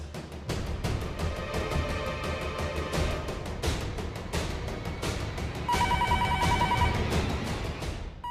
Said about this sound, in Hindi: दिन भर ये फोन बजता रहेगा